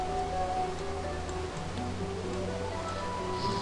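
Steady Minecraft rain on a dark, cloudy day: a faint, even patter and hiss with light ticking drops, continuous throughout, with no talking.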